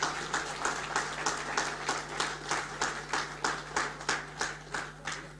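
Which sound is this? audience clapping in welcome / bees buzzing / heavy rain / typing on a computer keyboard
audience clapping in welcome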